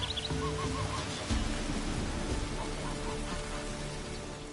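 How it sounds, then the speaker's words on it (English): Steady rain patters in a swamp village setting in The Witcher 3, a constant wash of drops with faint bird calls and a soft low rumble near the start. "Looks like rain."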